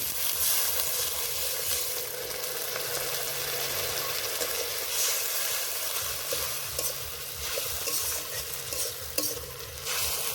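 Ginger and garlic frying in a pan with sliced green chilies, giving a steady, close sizzle and crackle throughout with faint stirring scrapes.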